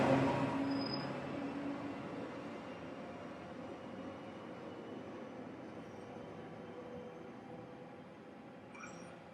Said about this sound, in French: Nous sommes arrivés avec ce train. Il repart maintenant pour Félissure.